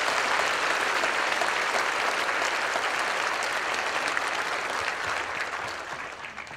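Church congregation applauding together in a sustained, dense round of clapping that fills the space evenly and tapers slightly toward the end.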